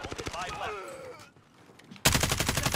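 Bursts of rapid gunfire from a Holger weapon in the Modern Warfare Warzone video game, loud and close, breaking in sharply after a spoken voice and a short lull.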